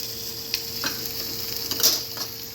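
A New York strip steak frying in a cast iron pan, a steady close sizzle with a few light scrapes and clinks of utensils against the pan, no talking.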